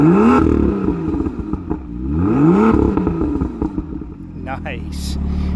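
A BMW M2's engine revs up and falls back through its exhaust in several rising and falling swells, loud and close, with voices talking over it.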